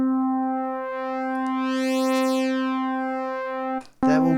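A retro synthesizer sustains a steady harmonic tone, rich in evenly stacked overtones, held loud and constant for nearly four seconds before cutting off into a brief burst of a different timbre.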